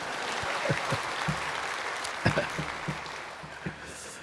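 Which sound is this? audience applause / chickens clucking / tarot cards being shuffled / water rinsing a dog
audience applause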